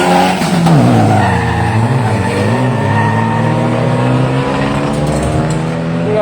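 Race cars launch hard off the line at a 200 m drag race, loud engines revving up through rising gear sweeps with tire squeal, continuous and close for the whole stretch.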